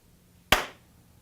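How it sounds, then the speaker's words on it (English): A single sharp hand clap by a camera operator to sync footage, loud and close, decaying quickly into quiet. "I'm going to have my camera operator clap really loudly"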